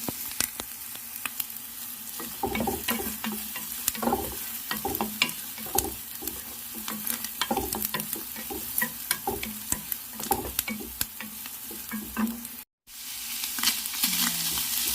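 Garlic frying for Arabic molokhia soup sizzles steadily in a pan, with frequent spatula scrapes and stirring clicks over the crackle and a brief dropout near the end.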